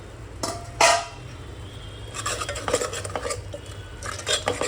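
Mutton pulao stirred in a metal pot, with a couple of sharp spoon clanks against the rim followed by a run of scraping, rustling stirring strokes, close by with no talk.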